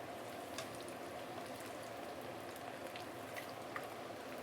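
Pork belly deep frying in oil over medium heat, a steady dense sizzle with fine crackling pops running unbroken throughout, moderately loud and close with no talking.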